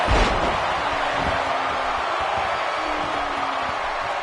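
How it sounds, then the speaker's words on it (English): A wrestling arena crowd in WWE 2K17 roars in a dense, steady wash of cheering noise, loud and sustained, with a thud of an impact at the start. "And listen to this crowd!"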